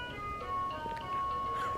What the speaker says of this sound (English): it's also made by V-Tech, and it has lights and sounds